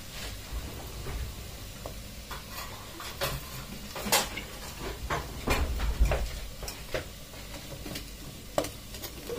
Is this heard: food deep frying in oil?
yes